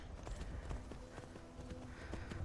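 A horse in Skyrim VR gives off steady hoof clip-clops and shuffling over a dense background bed.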